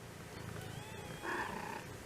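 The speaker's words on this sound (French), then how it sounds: "Bah oui, ils miaulent les bébés." Newborn kittens about five days old mewing faintly indoors: a short, thin, high cry rising briefly over low background rumble, close but soft, with no talking.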